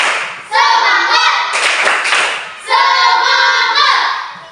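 A group of children in a classroom clap a rhythmic cheer, loud and close, in two long bursts of fast clapping with a brief pause between them and voices mixed in.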